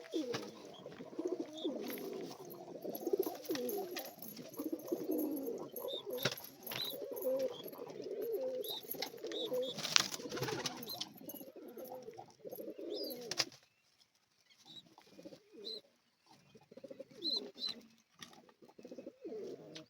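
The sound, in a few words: pigeons cooing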